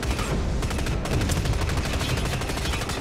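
Rapid, dense weapon fire from a forge gun in the sci-fi shooter DUST 514, aimed at tanks during an arena match, forms a loud continuous barrage with rapid repeated bursts and no talk.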